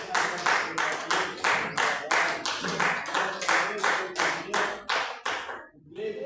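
A church congregation claps in unison at a worship service, loud, rhythmic hand claps at a steady beat that continue for several seconds before stopping abruptly near the end.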